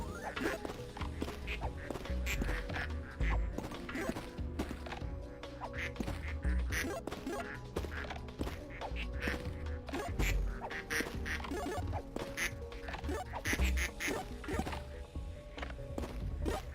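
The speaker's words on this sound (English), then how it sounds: "Look at how many ducks there are back here." A crowd of ducks in a video game quacks constantly, dense overlapping calls near and far over a steady game background, with a voice talking at times.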